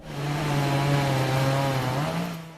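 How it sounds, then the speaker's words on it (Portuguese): A chainsaw roars steadily while clearing forest, its engine note holding high and loud before dipping and rising again near the end, close by with no talk. "estava na hora de começar a roncar o motosserra"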